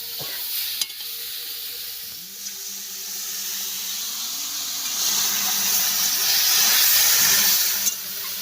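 Water is poured into a hot shrimp curry in a pan. It makes a continuous hiss that swells louder and steamier in the second half, with a few sharp knocks.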